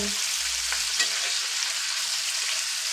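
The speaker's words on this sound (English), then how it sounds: "I'm going to actually turn the heat back up again so that it sears on this side" Liver sears in a hot frying pan with a loud, dense, steady sizzle and a few faint pops, close and continuous with no talking.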